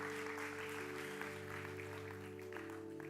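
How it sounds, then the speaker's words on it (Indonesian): A church congregation at a Sunday service claps faintly and steadily over a sustained musical drone, the applause soft and distant. "boleh kasih tepuk tangan buat Michael."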